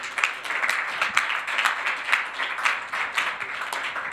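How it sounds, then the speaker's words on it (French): An audience at a round-table conference on reducing the environmental impact of digital technology applauds its participants, a close, dense burst of many hands clapping steadily for about four seconds. "on peut applaudir nos participants."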